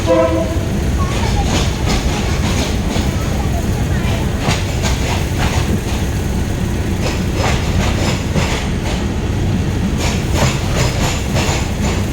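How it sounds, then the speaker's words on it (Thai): A train rumbles steadily along the rails with rhythmic clickety-clack, loud and close throughout, with a brief horn-like tone at the start. "รถไฟครับรถไฟเยอะมากครับ"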